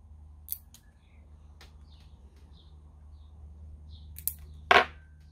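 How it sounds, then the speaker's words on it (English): Scissors snipping the tag ends of a fishing line knot on a shock leader: a few faint clicks, then one sharp, close cut near the end, against quiet background hum. "cut the tag ends"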